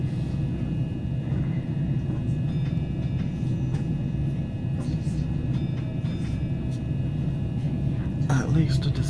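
A Southeastern passenger train heading for London Charing Cross runs on the rails, heard from inside as a steady, loud, low rumble that holds unbroken throughout, with a brief rise in rattle near the end.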